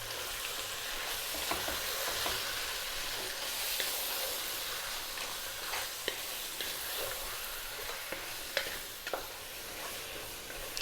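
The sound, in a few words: lamb biryani mixture sizzling and stirred on high heat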